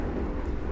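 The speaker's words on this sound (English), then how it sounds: "seems to be a lot of incoming flights today." An airplane flies low over a home near an airport, heard outdoors beside a Recteq 590 Deck Boss grill cooking party wings. It is a faint, steady, broad jet rumble with no other sound on top.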